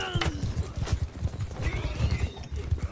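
Horse hooves clip-clop at a steady gallop with a brief whinny during Mount & Blade II: Bannerlord multiplayer combat, continuous and fairly close, with faint game sounds around it.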